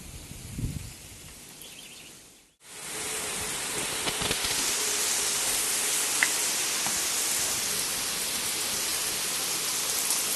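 Heavy summer rain in a thunderstorm pours down outdoors, a steady dense hiss after a brief drop-out, with scattered louder drop hits and splashes close by.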